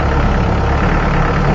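Inside a new vehicle travelling along a corrugated road, a loud, steady, close engine and road rumble drones continuously with no voices.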